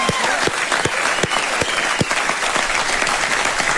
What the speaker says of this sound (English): That deserves a round of applause, right?